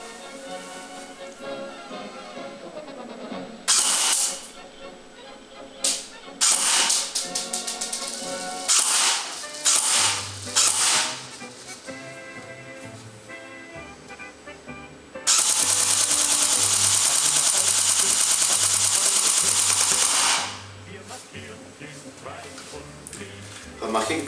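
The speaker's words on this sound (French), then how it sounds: "On va maintenant passer sur un tir sur cible." An MP41 SRC airsoft gun fires at a target about a dozen metres away: sharp separate semi-auto shots, then a sustained full-auto burst of about five seconds, with someone speaking between shots.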